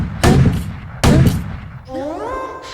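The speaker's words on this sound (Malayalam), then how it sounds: "ആ പട്ടാളക്കാരൻ പ്രസിഡന്റ് ചുറ്റുപാടും വെടിവെക്കണയാണ്" Gunfire sound effect in a comedy stage skit where a soldier fires all around: two sharp, loud bangs about a second apart, each with a short rattling tail, followed by a voice.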